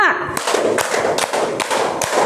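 A group of students in an Indonesian classroom claps in unison on a teacher's count, about five crisp evenly spaced claps mixed with the teacher's voice.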